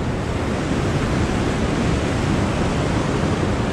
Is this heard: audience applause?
no